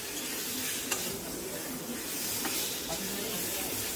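Fried potatoes are stirred into a spice mix in a hot pan, giving a steady close hiss and sizzle with a few faint scrapes of the spoon and no talk.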